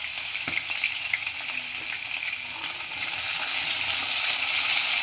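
Capsicum frying in hot oil for an egg Maggi noodle dish, a constant close hiss of sizzling that swells slightly louder toward the end, with faint utensil taps and no voices.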